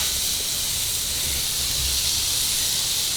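Burgers sizzling in butter on a hot pan, a steady loud hiss of frying fat running throughout with no pauses or talk.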